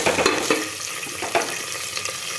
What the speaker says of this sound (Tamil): பாருங்கள், நல்லா பாருங்கள் பொரியுது மக்களே